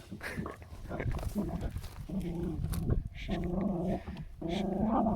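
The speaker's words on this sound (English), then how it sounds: "I've got dog in there. There's an armadillo in there with her." A dog growls in repeated low, rumbling bursts, fairly close but somewhat muffled, with short gaps between each growl.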